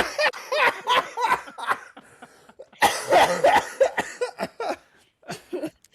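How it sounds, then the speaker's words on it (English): Bursts of coughing mixed with snickering laughter, several rough fits in quick succession with a short pause midway, close to the microphone. "I normally cough when I laugh"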